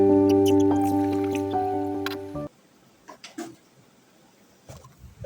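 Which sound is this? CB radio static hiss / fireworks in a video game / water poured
water poured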